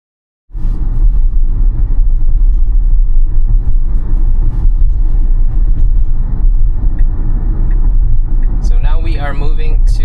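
A Tesla running Full Self-Driving Supervised v13.2.9 on a road, heard from inside the cabin as a steady, loud low rumble of tyres and road noise that starts abruptly and holds constant, with a brief higher chirp near the end.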